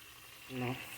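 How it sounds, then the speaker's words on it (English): Oil sizzles with a soft, steady crackling hiss as plantain slices fry, and a brief murmur of a voice rises over it. "the plantain has already started to change color as they're frying in the oil"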